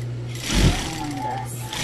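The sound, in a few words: sewing machine stitching blouse sleeve to body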